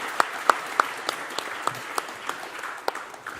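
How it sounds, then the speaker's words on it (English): A small audience applauds a colleague at a tech talk, with a brief patter of scattered hand claps, a few sharp ones standing out near the start, fading slightly toward the end. "give a round of applause for our colleague Gijs"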